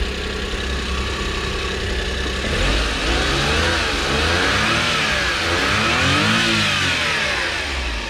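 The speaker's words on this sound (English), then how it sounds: "The engine is running" A turbocharged 4x4 engine runs steadily and revs up and down in smooth swells, close and loud, with no voices.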